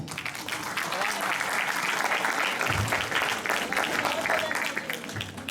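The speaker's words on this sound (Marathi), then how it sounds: "टाळ्या जरा जोरात वाजवा" Sustained applause from an audience at a Ganapati festival music program, dense and steady throughout, with a murmur of voices mixed in beneath the clapping.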